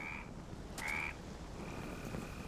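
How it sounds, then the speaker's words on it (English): Frogs croak in a night scene of the video game A Plague Tale: Innocence, with brief steady tonal calls repeating over a constant ambient hiss. "It's just frogs, Hugo."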